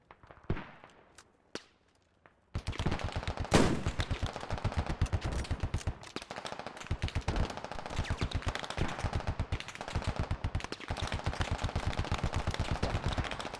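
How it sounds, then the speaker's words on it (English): Gunfire in the video game Squad: a few sharp isolated shots, then a long, loud, rapid burst of automatic fire that keeps going with slight pauses. "Gotta kill bad dude shooting at our guys"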